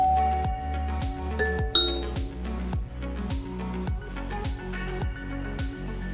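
A Ring doorbell chime rings out through an Amazon Echo Show 8 smart display, a series of clear bell-like dings and tones repeating in a steady rhythm, moderately quiet with no talking.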